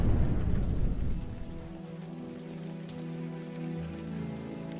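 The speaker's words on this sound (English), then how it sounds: "what a rainy night indeed" Steady rain in the video game Unavowed on a night in Brooklyn, a continuous wash of falling water with a louder, fuller burst at the start that settles into an even patter, no voices.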